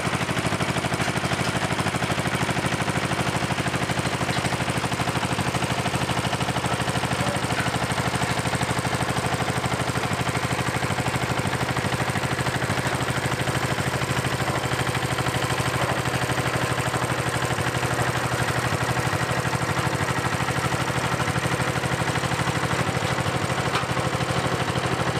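A rebuilt vintage plant engine with a freshly reground crank runs steadily at a constant, dense mechanical drone, loud and unbroken throughout, with no voices over it.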